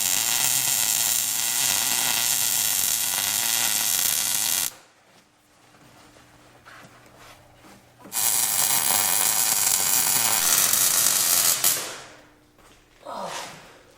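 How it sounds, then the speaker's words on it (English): Welding a crossbar onto a Jeep up on a lift: a loud, steady buzzing crackle lasts several seconds, pauses, returns for a second long burst, then gives a short final spurt. "now it's time to weld this crossbar in."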